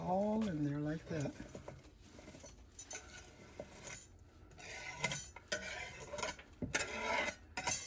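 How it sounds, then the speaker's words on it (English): Broccoli florets go into a pot of broccoli and cheese soup, with nearby scraping, stirring and soft clattering against the pot. A voice speaks briefly at the start. "let's put in our broccoli"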